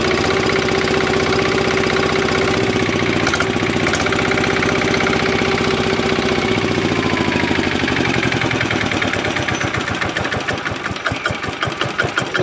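A Zanma H70 motorcycle engine running steadily and loud throughout, with a continuous mechanical drone and rapid pulsing that grows more choppy toward the end.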